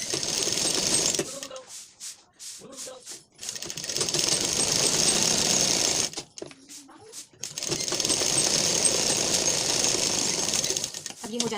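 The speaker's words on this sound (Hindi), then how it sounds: "अब इसे हम पलट कर ऐसे ऊपर से सिलाई लगाएंगे।" A sewing machine stitches a blouse lining in bursts of rapid mechanical whirring, separated by quiet pauses with faint handling noise and a brief voice.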